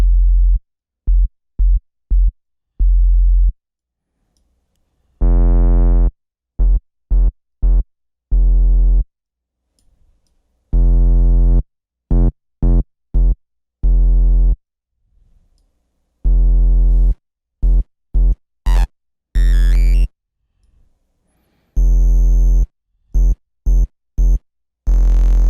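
Test signal pushed through racks of overdrive and pedal distortion, fuzzed and destroyed in DOOM-style processing; a series of short, loud, buzzing distorted tone bursts in choppy rhythmic groups separated by silences, with a few higher squealing blips.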